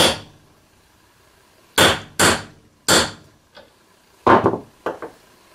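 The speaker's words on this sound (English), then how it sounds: "I'm going to push as hard as I can and then give it a smack with the hammer." Hammer blows on a punch driving a spring and bearing into place: several sharp metallic smacks, a close pair and a single, then a faint tap and a final flurry of quick strikes.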